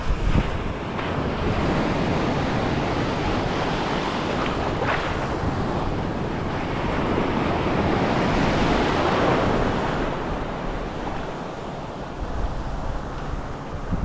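Ocean waves break and wash continuously at a fishing spot, a loud, close roar of surf mixed with heavy wind noise on the microphone.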